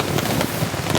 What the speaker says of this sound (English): The rain's still coming down pretty nice